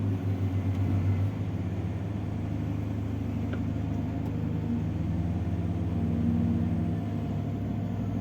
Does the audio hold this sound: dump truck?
yes